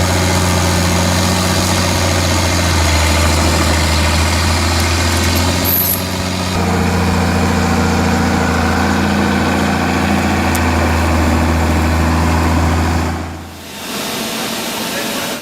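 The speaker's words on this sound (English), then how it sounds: "5288IH is the perfect solution for easily removing tree stumps." A 5288IH tractor engine rumbles steadily at close range while removing tree stumps, a deep continuous drone that briefly shifts in load before fading near the end.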